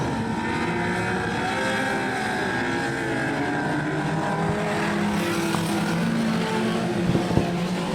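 Junior sedan race cars circling a dirt speedway in Rockhampton during a championship main event, several engines droning steadily and loudly at a distance in a continuous blended roar.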